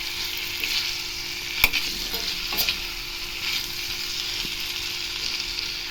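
Chicken gravy ingredients with coarse rock salt stirred in a hot pan, a steady close sizzle with scraping spoon strokes and a couple of sharp clinks against the metal.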